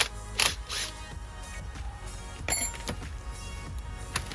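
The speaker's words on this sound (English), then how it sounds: "grab yourself a wrench for the other side to hold it because it's going to be unscrewing" A wrench works the rear wheel nut on a pit bike, giving brief ratcheting clicks and metallic scrapes in a few separate bursts, close and fairly quiet.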